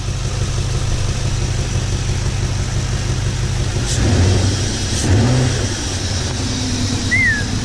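A BMW 4.4-litre V8 idles smoothly with a low, steady rumble, a couple of brief light revs rising above the even idle, heard close by with no talking.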